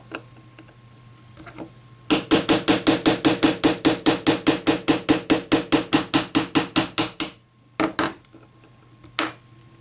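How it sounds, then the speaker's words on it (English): Hammer tapping a punch to drive a trigger pin into a Kel-Tec RDB rifle's trigger assembly: a rapid, even run of about twenty-five sharp metallic taps close up, then a brief pause and a few final strikes, loud and with no voice. "we can get our punch in there and just tap it right in"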